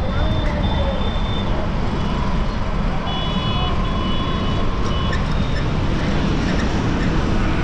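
Busy road traffic near the Red Fort in Agra rumbles continuously, with engines, distant horns and high beeping tones over a dense, steady roar.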